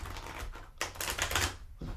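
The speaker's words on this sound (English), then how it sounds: "so I made a video of how I do the shuffle, my little riffle shuffle here" Tarot cards are riffle shuffled by hand, a close, dense burst of rapid clicking and fluttering that comes in two quick runs with a brief pause between them.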